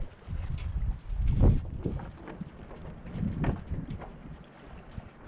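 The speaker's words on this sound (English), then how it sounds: "the wind is now coming off the bow, which seems a little odd" Wind buffets a sailboat out at sea, heard as gusty rumbling microphone noise with surging, uneven bursts and faint splashing underneath, no voices.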